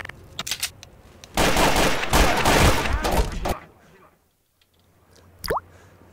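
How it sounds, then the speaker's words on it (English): A dense burst of rapid gunfire in Garry's Mod police role-play, loud for about two seconds, then sparse clicks and a single sharp shot in near silence, with scattered voices. "there were shots fired, I heard, at the apartments"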